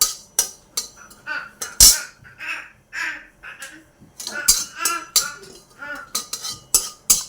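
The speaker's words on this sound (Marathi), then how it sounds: "असं छान एकसारखं परतच राहायचे जिरे कारण जळतात ते लगेच" Cumin seeds being stirred in a kadhai over a low gas flame, with a spoon scraping and clinking against the metal in quick, irregular strokes, loud and close.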